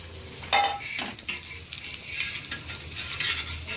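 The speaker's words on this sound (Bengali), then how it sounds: "ডিম ভাজা কমপ্লিট হয়ে গেছে" Eggs fry with a steady sizzle in a pan, while a utensil scrapes and taps against the metal now and then. No one speaks.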